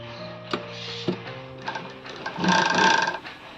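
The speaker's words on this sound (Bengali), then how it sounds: "এবার আমি সেলাই দেবো মুড়ে মুড়ে" A sewing machine stitches a folded hem on a readymade sleeveless kurti. A short, steady whir swells near the end, with a couple of faint knocks and clicks before it.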